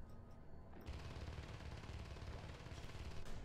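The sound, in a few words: rifle gunfire in the video game Natural Selection 2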